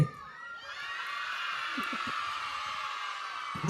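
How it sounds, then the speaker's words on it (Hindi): Children at a primary school Independence Day event shout and cheer together in a sustained, fairly distant roar. "अरे चिल्ला लो, ये बच्चा तो चिल्लाओ जोर से।"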